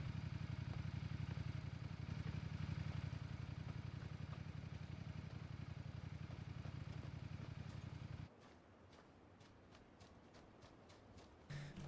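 A motorcycle engine idles steadily in a battle-royale shooter, a low continuous drone for about eight seconds that then cuts off, leaving quieter ambient game sounds and faint clicks.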